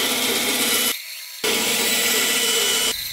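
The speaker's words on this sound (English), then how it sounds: "I'll do that with a bandsaw." A bandsaw cuts through a small plastic LEGO minifigure hood in a loud, steady buzzing rasp, broken by one brief pause before the cut resumes.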